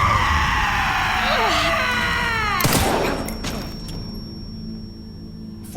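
Singer enemies in the survival horror game Resident Evil Requiem let out shrill, warbling screams that sweep up and down over a tense game soundscape, cut through by a sharp burst of gunfire partway through.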